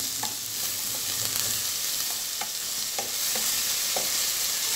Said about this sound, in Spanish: comenzaremos dorando nuestra cebolla